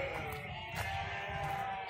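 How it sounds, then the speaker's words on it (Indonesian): Goats in a spacious farm pen let out a few faint, wavering bleats, one near the middle and another toward the end, over low background murmur. "Nah ini kambing-kambingnya guys"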